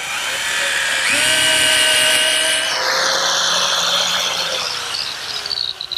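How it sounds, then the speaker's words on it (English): A power drill whines and spins up as screws are driven into a 1-inch redwood cleat on a post for an arbor, a loud, steady motor tone that shifts pitch partway through, with no talking. "Next, I attach this 1-inch cleat to the post with some screws."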